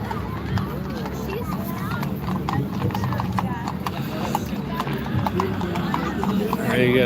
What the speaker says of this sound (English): look at the beautiful horses, but here's the old sheep wagon.